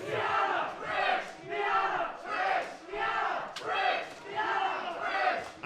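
At an independent wrestling show, the crowd splits between two wrestlers, chanting in rhythmic alternating waves, each chant rising and falling roughly once a second, loud and close.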